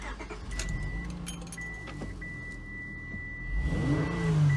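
A Honda Pilot engine with no misfire idles and then revs up toward the end, with a steady high whine running through and some faint jingling early on.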